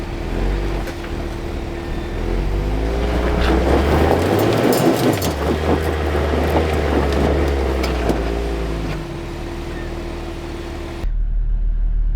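An Ineos Grenadier without traction control crawls off-road as its wheels dig into the ground. A steady engine drone swells mid-clip with wind buffeting the microphone, then the sound drops away abruptly near the end.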